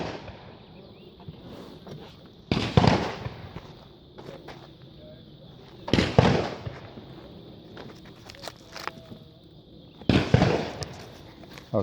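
A .22 caliber rifle fires three sharp, loud shots into a stack of books outdoors, spaced several seconds apart over a steady background hiss.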